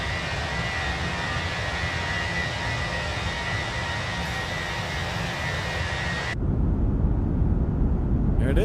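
Airliner jet engines roaring at takeoff power in Microsoft Flight Simulator 2024, a loud steady rush that drops to a deeper rumble partway through.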